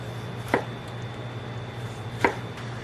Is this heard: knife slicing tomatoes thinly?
yes